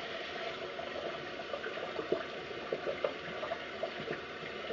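Shaving brush rinsed under a running tap, a steady close stream of water with small splashes and gurgles as the bristles are worked under it.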